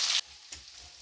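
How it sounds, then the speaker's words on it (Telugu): Mustard seeds, curry leaves and onions hit hot oil for a dried-fish curry, giving a loud burst of sizzling that cuts off sharply, then a brief crackle and a low, quieter simmer. "ఆయిల్ వేడెక్కిన తర్వాత ఆవాలు, కరివేపాకు, ఆనియన్స్ వేసుకొని ఫ్రై చేసుకోవాలి."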